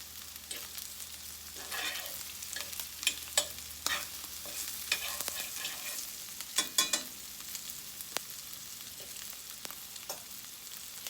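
Sausage and sweet potato fry in a pan with a quiet, steady sizzle, broken by scattered scrapes and taps of stirring.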